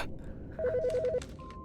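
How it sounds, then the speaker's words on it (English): Telephone ringing in the Autopsy Simulator video game: one short burst of rapid, evenly spaced electronic ring pulses at moderate level, followed by a steady beep tone, with no talk over it. "The fucking phone."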